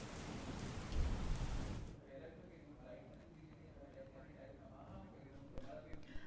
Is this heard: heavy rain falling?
yes